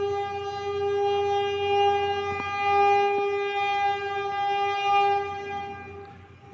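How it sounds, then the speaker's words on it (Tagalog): A passing train sounds a long, steady, multi-tone horn that holds for several seconds at moderate distance, with faint clanks underneath and no speech. "may dumadaan na tren"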